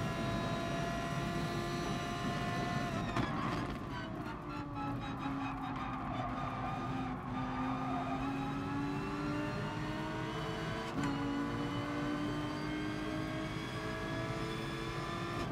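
Racing engines in GT Sport, with a Ford among the cars, drone steadily and loud throughout, pitch rising and falling as revs climb and gears shift, a second engine note weaving alongside in a slipstream.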